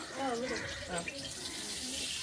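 Water is poured into a pot during a family home cooking session, a faint trickling splash running under soft nearby talk.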